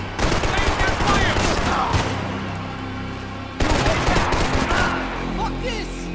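Gunfire from the video game Max Payne 3 comes in two loud, dense bursts of rapid shots with a short gap between them.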